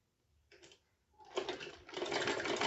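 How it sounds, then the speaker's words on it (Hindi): A sewing machine stitches along the collar of an umbrella frock, beginning with a short burst, then a pause, then a longer steady close-up run of fast needle chatter. "सिलाई इस तरह करें कि कॉलर में आए एंड नीचे ना उतरे"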